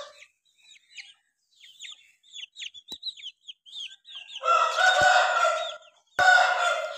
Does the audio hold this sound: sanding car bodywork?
no